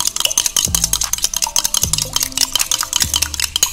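Eggs with pepper and salt are beaten briskly in a bowl, producing a fast, steady run of clicking, clinking strokes that stay close and fairly loud, with no talking.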